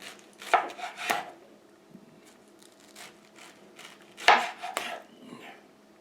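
A knife chops through a small pineapple on a cutting board, cutting half-inch slices, with a few crisp, close cuts in two pairs separated by quiet pauses.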